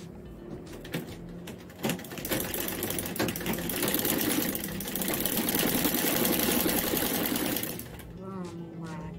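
Home sewing machine stitching through a plastic bag, a loud continuous motor whir running for several seconds before stopping, with a person talking around it.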